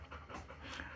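A dog lying down pants softly and sniffs around close by, a quiet, steady breathy rhythm with no other sounds.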